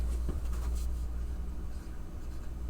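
Pen scratches softly on a surface while a trigonometric formula is written out by hand, a faint, close, continuous scribbling without speech.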